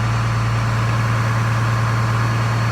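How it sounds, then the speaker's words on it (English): A cold farm tractor engine idles steadily as it warms up, a loud, close, unbroken low drone with no change in rhythm and no voices. "While the tractor warms up just a little bit, I'm gonna let that run."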